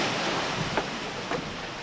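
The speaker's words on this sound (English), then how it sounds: "Huge waves lashed the shore," Huge waves crash onto a shore during a storm with an unusually high tide, a dense roaring wash mixed with wind noise, two stronger breaks standing out, and no voices.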